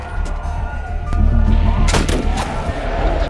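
Hunting rifle shots in a monster film scene, several sharp cracks bursting out around the middle over a dense, rumbling soundtrack, with no clear gaps between the loud layers.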